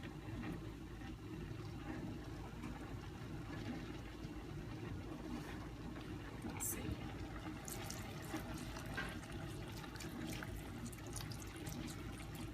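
Liquid from a box poured into Southern-style cornbread dressing, a soft steady trickle and splash, faint and continuous with a low room hum beneath.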